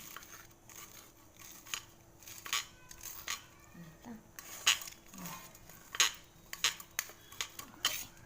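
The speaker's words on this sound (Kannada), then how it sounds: "ನೀಟಾಗಿ ಕೊಯ್ದು ಸ್ಲೈಸ್ ನೀಟಾಗೆಲ್ಲ ಮಾಡಿ" A knife slicing through bajji fritters on a plate, a series of sharp, close metallic clicks and scrapes at an uneven rhythm, with faint background sounds between cuts.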